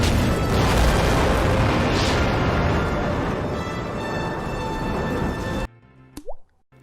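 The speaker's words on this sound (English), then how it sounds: "This man escapes not one, not two, but 3 exploding buildings." Buildings exploding in a WWE action movie starring John Cena, a loud sustained rumbling roar of blast and debris that cuts off abruptly near the end, leaving brief quieter scraping sounds.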